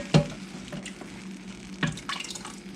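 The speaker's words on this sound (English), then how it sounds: "I'm just spooning it out here in this bowl" Tender cooked pork for tacos is spooned out into a bowl: two distinct wet clinks of the spoon against the bowl, with soft sloppy scraping and dripping between them, close and fairly quiet.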